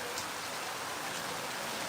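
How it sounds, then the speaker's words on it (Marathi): Rain that has kept falling for several days makes a steady, even hiss with no breaks, filling the whole stretch as a dense wash of sound. "पाऊस चालू आहे तीन चार दिवसापासून"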